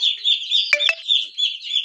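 Chickens cluck and chirp nearby in soft repeated bursts, with a couple of sharper clucks in the middle.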